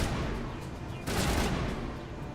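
Rapid gunfire from a Mass Effect firefight, a steady dense crackle of shots that swells louder partway through, loud and close with no voice over it.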